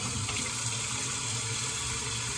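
Tap water pouring steadily into a pan in a sink to soak it, a loud, even rushing stream close by with no pauses or speech.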